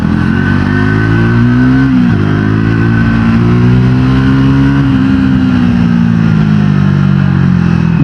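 A Triumph Tracker 400 motorcycle on the move, its engine loud and close with a steady drone, a brief dip near two seconds as the rider shifts, then climbing again as it accelerates.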